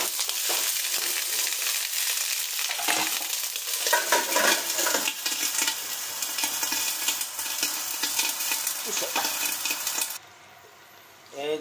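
Frozen taro pieces stir-fried in sesame oil with chicken gizzards and thigh, a loud continuous sizzle with scraping stirring strokes in a pan, cutting off abruptly near the end.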